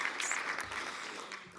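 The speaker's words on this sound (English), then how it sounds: "That's definitely worth a round of applause for sure." Applause fills a conference hall during a talk, a dense, moderately distant wash of many hands clapping at an even level throughout.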